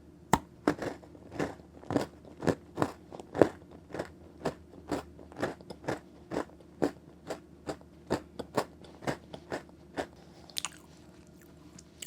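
Close-up rhythmic crunchy bites and chews into a strawberry cheesecake bar, about twenty sharp regular crunches spaced evenly, nearby and alone with no talk.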